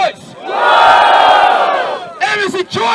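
Crowd at a freestyle rap battle roaring and shouting in one sustained loud burst, dipping, then rising again in excited yells.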